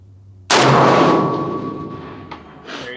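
A single loud, sharp rifle shot from an FN SCAR 20S fired at a half-size torso target at long range, followed by a long rolling echo and a faint distant impact report.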